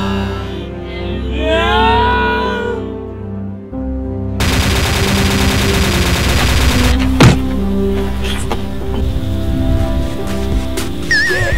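Gunfire in the X-Shot FPS shooting video game, with dense rapid bursts and volleys crackling over game music and effects, loud and close, following a brief melodic tone at the start.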